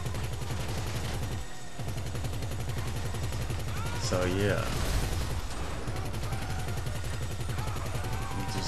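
Sustained rapid machine-gun fire from a turreted armored limousine in GTA V Online runs steadily throughout, a loud continuous rattle with a few sharper impacts, while someone talks over it briefly.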